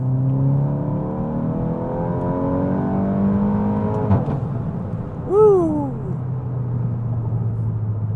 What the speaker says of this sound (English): You can try to do another little third gear pull here,